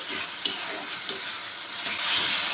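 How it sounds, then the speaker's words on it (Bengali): Spice masala with tomatoes fries in hot oil, a dense, loud, close hiss that grows stronger toward the end, with a couple of light spoon knocks early on. "টমেটোটাকে দিয়ে মশলাটিকে কিছুক্ষণ কষিয়ে রান্না করে নেব।"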